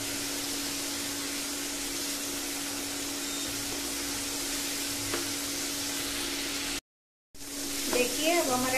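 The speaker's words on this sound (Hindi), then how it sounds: "कटे हुए टमाटर को डाल देंगे और इसे भी थोड़ा देर 2-4 मिनट नरम होने तक फ्राई कर लेंगे" Chopped tomatoes with spices fry in a pan for baingan palak, giving a steady close sizzle that cuts out briefly near the end, then returns with stirring clatter.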